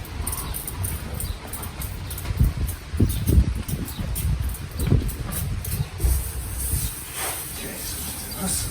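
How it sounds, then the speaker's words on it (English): A spray bottle puts a fine mist of liquid across a concrete worktop in a run of soft, repeated hissing spritzes, with low voices murmuring underneath. "There's a fine mist of liquid over the entire top."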